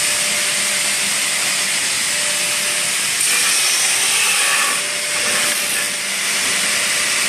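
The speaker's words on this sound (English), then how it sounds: "this is more traditional way of grinding" A blade is held against a grinding wheel in a traditional grinding setup, giving a steady loud hissing whine that runs without pause and shifts slightly in pitch partway through.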